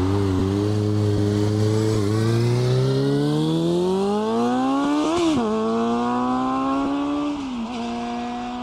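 A car engine at a farm shop car meet revs up in a long, climbing sweep, blips sharply, then settles and drops back as it pulls away. The sound is close and loud, with no talk.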